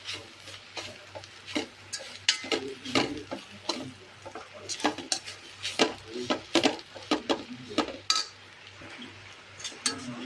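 Dried fish frying in a pan, with frequent sharp clinks and scrapes of a utensil stirring against the metal over a faint sizzle, close and uneven.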